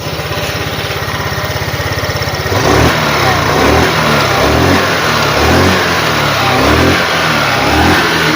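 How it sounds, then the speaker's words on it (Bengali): Hero Maestro 125cc BS6 scooter with a pickup problem revved on a pickup test, a steady close idle putter that jumps to a louder, rough, surging engine note as the throttle is opened and held. "তো এবার আমরা গাড়ি পিক আপ মেরে দেখাবো যে গাড়ি পিক আপ হচ্ছে কি হচ্ছে না।"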